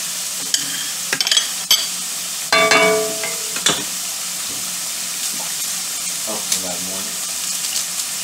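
Kale and spinach cooking down in a pan, a steady close sizzle with repeated scraping and clattering stirs, plus brief running-water sounds, no talk.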